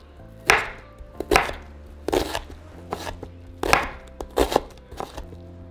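A knife chops onion into small cubes on a board, about ten sharp, close chopping knocks in an uneven rhythm, with nothing else heard.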